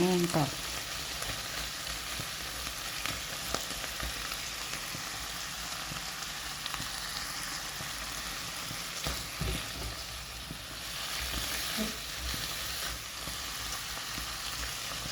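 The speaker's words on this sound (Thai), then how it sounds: "ตอนนี้หมูมันก็สุกแล้วแหละ แต่ว่าเรารอให้น้ำมัน" Pork pieces fry in oil in a home cooking pan, giving a steady, close sizzle and crackle that carries on evenly for the whole stretch, with occasional stirring noises and no talking.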